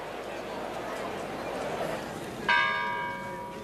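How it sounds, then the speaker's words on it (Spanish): Church bells ring out at midnight to open a Holy Week procession in Zamora, Spain. The loud bell strike enters partway through and keeps ringing over a bed of crowd murmur. "A las 12 de la noche suenan las campanas"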